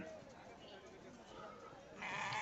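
Goats penned for sale at a crowded Saturday livestock market in Achampet, bleating now and then beneath steady nearby human chatter, with a louder burst of noise toward the end.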